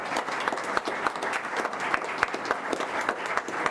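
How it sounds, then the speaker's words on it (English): A room at a county commissioners' public meeting breaks into sustained applause, dense rapid clapping from a modest crowd held steadily throughout. "Let's give Miss Abigail a round of applause."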